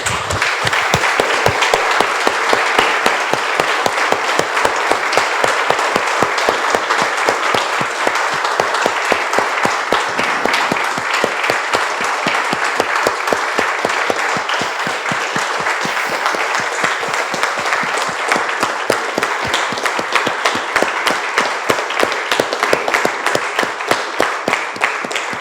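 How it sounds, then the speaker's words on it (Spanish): A church congregation applauds the Lord in sustained, rhythmic clapping, many hands falling into a fairly steady beat that carries evenly for the whole stretch, with faint voices in the room. "Damos un aplauso, hermanos,"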